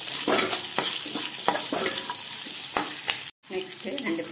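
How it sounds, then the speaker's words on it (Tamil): Garlic cloves and curry leaves frying in oil for a village-style mint chutney, a constant close sizzle with repeated stirring scrapes and a brief break near the end. "இப்போ கறிவேப்பிலை செஞ்சோம். பூண்டு ஒரு 5 பல்,"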